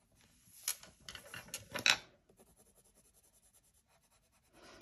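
Prismacolor colored pencils blending green over blue on paper for a Christmas card, giving soft scratchy strokes in quick bursts, then lighter, steadier rubbing, close and fairly quiet with no talk.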